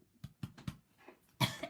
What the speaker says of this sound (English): I need to cough with you